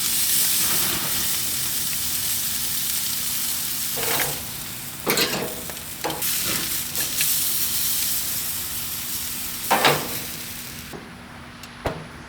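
Flanken-style short ribs sizzle on a grill, a steady close hiss of fat and steam broken by several sharp bursts of crackle and flare-up, no voices.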